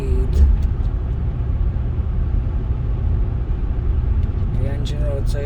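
A Jaguar XK8 carbon fiber edition is driven through traffic, its engine giving a steady low rumble with road noise inside the cabin, and brief faint higher sounds near the end.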